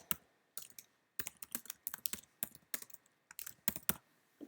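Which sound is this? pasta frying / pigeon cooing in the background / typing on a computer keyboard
typing on a computer keyboard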